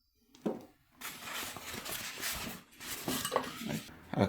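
Metal clatter and scraping as the perforated nonstick basket of a Philco PFR2200P air fryer oven is handled during unboxing, close and steady with a few sharper knocks, no talking.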